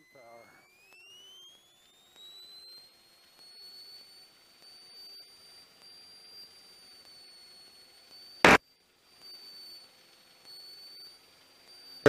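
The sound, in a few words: small airplane engine at takeoff power during takeoff roll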